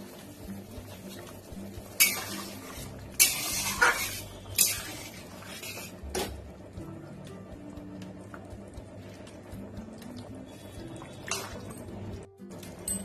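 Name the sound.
pan lid being lifted off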